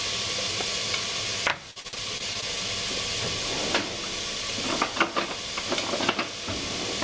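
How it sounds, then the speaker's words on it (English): Unsalted vegetables being stirred in a hot pan during a cooking class, a steady sizzle and hiss with a few scraping and clattering stirs of the spoon breaking through, fairly close and without talk. "I'm gonna give everything a good stir."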